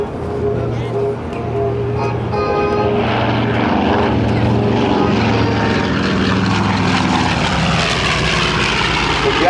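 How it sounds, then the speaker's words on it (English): A B-25 Mitchell twin-engine World War II bomber named Panchito roars overhead at an air show, its loud propeller drone rising and sweeping past, with a narrator's voice over it. "It was the most widely produced American twin-engine combat aircraft during World War II."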